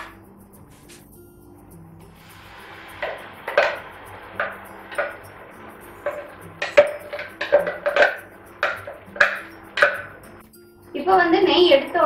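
Mashed banana goes into hot ghee in a metal kadai for halwa, with a run of clinking spoon-on-pan knocks and then a short burst of sizzling, while a person talks.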